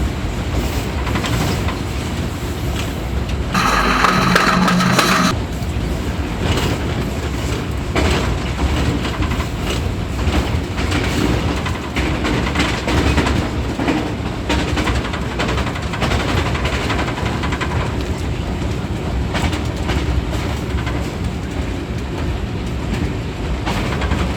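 Green Line passenger train running from Rawalpindi toward Lahore through Gangrela station in Pakistan, a steady rolling rumble with rail clatter heard from inside the coach, loud and continuous, with a brief brighter rattle burst early on.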